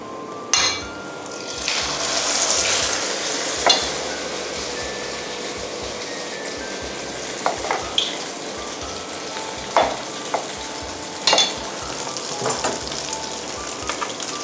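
Thai khanom kong dumplings deep-fry in hot oil, a loud continuous bubbling sizzle punctuated by several sharp clinks and scrapes of a utensil against the pan, no talking.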